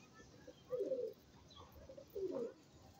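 Pigeons coo softly twice, low throaty calls separated by a short pause, over quiet background noise.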